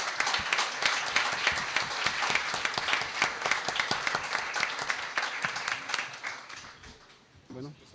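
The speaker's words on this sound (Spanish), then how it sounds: "un aplauso caluroso para nuestros tres invitados" Warm applause from a seminar audience at an academic event in Veracruz, welcoming three guest speakers; dense, steady clapping for about seven seconds that thins and fades out near the end, with a voice briefly heard as it dies down.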